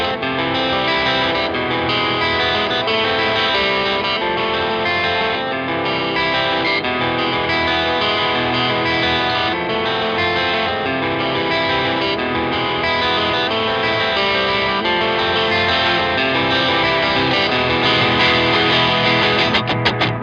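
Electric guitar through a Boss Blues Driver overdrive playing a stripped-down chorus: continuous, gritty, sustained chords, loud and unbroken, with no talking.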